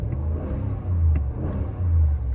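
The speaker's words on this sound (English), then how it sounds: "let's go ahead and start this truck up" A 2021 Ram 1500 Rebel pickup's engine and exhaust, a loud close low rumble rising and falling through a few rev surges with a deep throaty idle between them.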